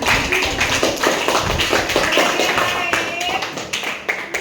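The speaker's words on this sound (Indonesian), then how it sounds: "Oke, tepuk tangan" A classroom of students claps together at a junior high school lesson, a steady patter of many hands sustained for several seconds, with voices murmuring beneath the clapping.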